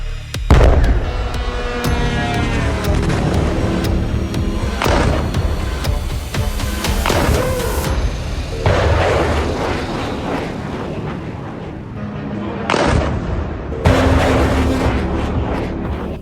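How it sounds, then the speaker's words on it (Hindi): Missile strike explosions hitting an IRGC headquarters in Iran, a continuous loud barrage of booms, blasts and crackling bursts with a few sharper strikes rising out of a dense roar; no talking. "अमेरिका की मिसाइलों ने ईरान के IRGC हेडक्वार्टर को धमाके में उड़ा दिया।"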